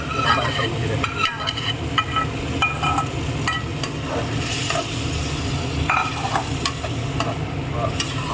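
Steady sizzling and frying of vegetables and tomatoes in a pan with occasional stirring scrapes and light utensil clinks, continuous and fairly close, no talking.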